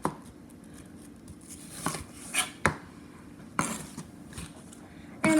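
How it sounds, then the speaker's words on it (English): A knife slices through fruit while cutting the core and stem out for fruit chaat, giving a few sharp, separate cutting snaps and clicks against a cutting board over a quiet background. "So we're going to cut this way and this way, trying to get as much of that stem out of it as possible."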